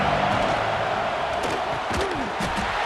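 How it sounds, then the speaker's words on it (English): A stadium crowd in EA Sports College Football 26 fills the air with a constant dense roar of voices, with scattered louder shouts rising over it, loud and close. "This crowd ready to make its presence known."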